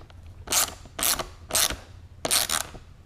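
Ratchet wrench snugging bolts on an EnduroPlate skid plate for an FE 501s motorcycle, four loud bursts of rapid clicking spaced about half a second apart, close and alone.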